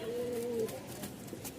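Pigeons in a breeding loft give a soft, faint coo at the start, followed by quiet background rustle.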